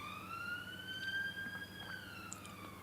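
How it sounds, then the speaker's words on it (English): A police siren wails faintly outside, its rising and falling tone drifting in at a distance behind quiet room sound. "Sorry if you can hear that siren."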